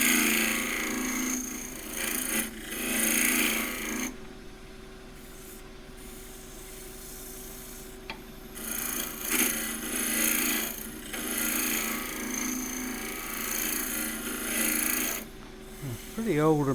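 Turning tool cutting an old, powdery box elder burl on a lathe, a rough, uneven rasping scrape in repeated passes with brief pauses between them, moderately close.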